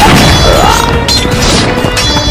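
Loud, dense battle din of gunfire and explosions from a historical battle, heavy booms and crashes piling up continuously with a sweeping tone over them, close and overwhelming.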